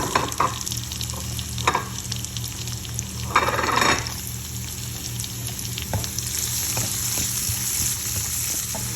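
Onion sizzling in a pan with garlic and ginger, a steady close frying hiss with occasional stirring scrapes, one louder burst of spatter partway through.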